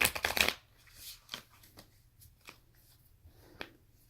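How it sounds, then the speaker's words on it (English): Tarot cards are shuffled in a quick, loud riffle of crisp slaps, then a few scattered soft card taps and flicks in a quiet room. "I'm going to do one more shuffle and then I'll get to it."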